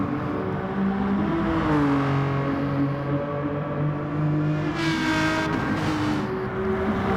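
A Hyundai Gr.3 race car engine in Gran Turismo Sport, lapping Brands Hatch in a daily online race, drones steadily with rising and falling revs through gear changes, loud and continuous with no talking.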